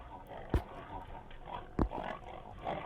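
Pigs in a horror-style video game grunting and snorting, with two sharp, loud snorts standing out against a lower, rough murmur of oinking in between.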